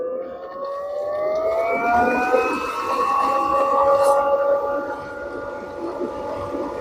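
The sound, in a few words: variable speed pool pump self-priming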